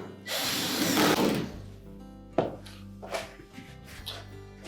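A power driver whirs for about a second, driving a screw while securing a cycling thermostat in a Whirlpool dryer, followed by several short clunks and taps of hardware being handled nearby.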